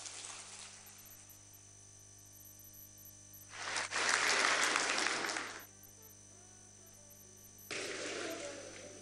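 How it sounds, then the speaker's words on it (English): An audience applauds the Vice President of Nigeria at a formal event. A two-second burst of clapping comes after a quiet stretch under a steady electrical hum, then a second burst starts at the end. "please keep clapping for His Excellency, the Vice President of the Federal Republic of Nigeria, Professor Yemi Osinbajo, SAN-GCON."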